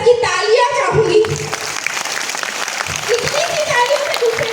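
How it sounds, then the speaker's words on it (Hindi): An audience applauding at a spiritual gathering, a continuous wash of clapping with a voice talking over it near the start and again later. "तो एक बार आप सबकी तालियां चाहूंगी"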